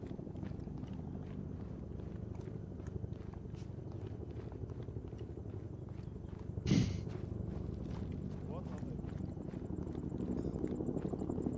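Steady low mechanical drone with a rhythmic thumping throb of helicopter rotors in a video game, continuous throughout with one brief sharp burst midway.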